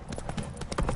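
The horse Roach gallops in Witcher 3, making quick, close clip-clop hoofbeats in a fast rhythm through the whole brief moment, with some faint voice underneath.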